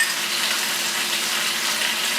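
Chopped garlic hits a hot pot of beef stew, giving a steady, close hiss and sizzle that stays even throughout, with no voices over it.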